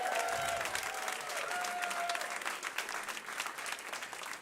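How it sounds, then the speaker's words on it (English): An audience applauds warmly at a public conversation event, a dense patter of many hands clapping at steady volume throughout, with a faint voice briefly audible underneath. "Give her a round of applause."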